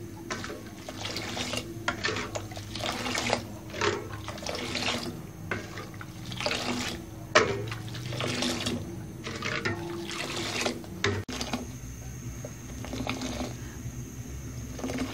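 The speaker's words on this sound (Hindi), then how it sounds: "अब हम अच्छे तरीके से इसको फेंट लेंगे इस तरीके से, ताकि ये ऊपर झाग झाग बन जाए।" Kashmiri pink tea being whisked vigorously to froth it, steady rhythmic sloshing and clinking strokes, close and continuous with brief pauses.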